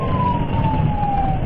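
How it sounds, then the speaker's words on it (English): A police car siren wails steadily and loudly during a dashcam pursuit of a Camaro, a sustained tone riding over road and engine noise throughout. "the officer activated their overhead lights and siren"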